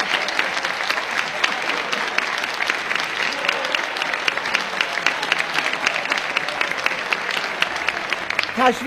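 A TV studio audience applauds in a dense, steady wash of clapping that lasts throughout, loud and close, with a brief voice near the very end.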